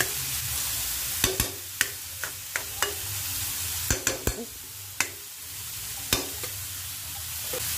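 A spoon stirs beef papaitan stew in a pot: a sizzling bed with about a dozen sharp scrapes and clinks at irregular intervals, close and fairly loud, with no speech.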